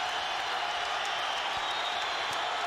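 A dense, sustained roar of cheering and clapping from the boxing crowd at the Arturo Gatti vs. Micky Ward fight, steady and loud, with faint talk underneath.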